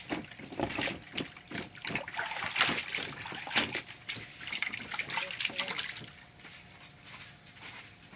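Freshly harvested produce being washed by hand, with close, uneven splashing and sloshing water that rises and falls throughout.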